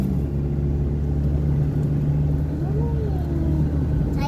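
A car descends a steep mountain road in low gear, its engine holding a steady, loud, low drone with a slight rise in pitch toward the end.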